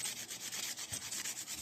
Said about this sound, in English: Now the sanding process.